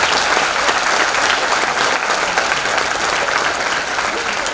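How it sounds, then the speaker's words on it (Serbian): Dense, steady crowd applause fills the hall at a charity concert in Batočina, a continuous roar of many hands clapping for a performer, close and loud throughout with no pauses. "Još jedan aplauz za lavicu"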